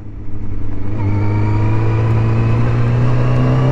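A 20-year-old motorcycle's engine runs steady and loud close by, a low throbbing idle that rises slightly as it revs, with no voices.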